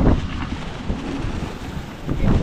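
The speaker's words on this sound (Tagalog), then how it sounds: "ambon at saka hangin na malakas at saka alon" Strong typhoon wind buffets the microphone by the sea, with steady roaring gusts, rough waves and boat noise mixed into the loud rumble.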